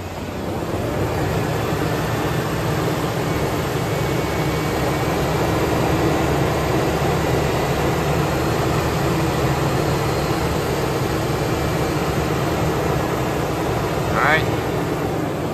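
A Ford Ranger engine idles steadily while warming up after an oil change, a continuous loud drone with a constant low hum that holds for the whole stretch, outdoors.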